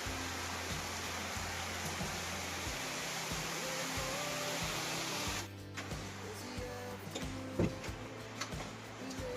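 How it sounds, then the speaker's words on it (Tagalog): Dense steady rain roar with a hissing wash and scattered ticks and drips, continuous throughout, shifting slightly in tone partway. "Makita nyo sa sobrang lakas ng ulan"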